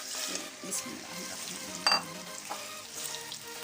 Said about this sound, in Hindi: अब इसमें ये मैंने 1 किलो चिकन को फ्राई करना है, अच्छे से इसका कलर चेंज करना है